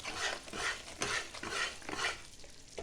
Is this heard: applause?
no